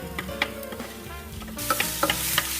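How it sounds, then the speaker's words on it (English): Chopped onions sautéing in olive oil in a pot over low heat, a steady soft sizzle with light stirring clicks and scrapes that grow louder toward the end. "the onions are slowly sauteing off in the pot or cooking"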